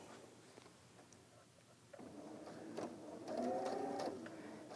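Sewing machine stitching in the ditch along a fold line on slim cotton pants, a soft running whir that picks up after a quiet start and grows louder toward the end, heard alone without talk.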